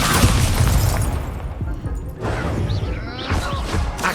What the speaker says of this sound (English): Expulso!